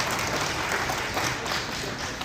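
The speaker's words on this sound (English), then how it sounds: "How about a big round of applause for my council colleagues?" Diners at a community dinner clap for city council colleagues, giving a brief, dense wash of applause that stays even and unbroken for a couple of seconds.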